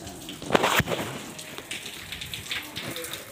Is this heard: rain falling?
yes